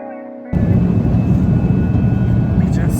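Steady broadband cabin hum of an airliner parked before takeoff, heard from a seat at the back of the plane's lower deck, switching on abruptly after a brief quieter moment and holding constant and close.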